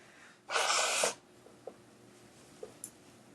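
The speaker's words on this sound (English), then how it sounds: "I need to blow my nose right now" A single short, forceful nose blow bursts out close by, followed by quiet with a few small soft clicks.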